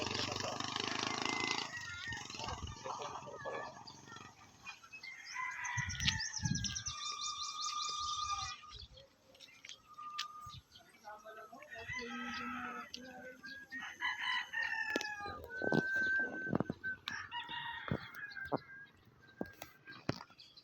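Chickens cluck and a rooster crows repeatedly around a busy outdoor coop in San Juan, Batangas, with quiet voices talking in the background.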